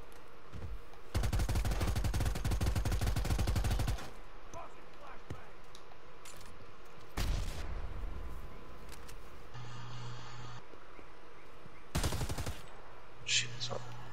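Bursts of automatic gunfire from the video game Predator: Hunting Grounds, a long rattling volley followed by shorter sharp bursts and scattered shots, with people talking between them.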